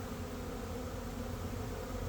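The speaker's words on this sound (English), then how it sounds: "Lots of bees." Honey bees swarming around an opened hive during a spring inspection, a close, continuous low buzzing hum with no break or voices.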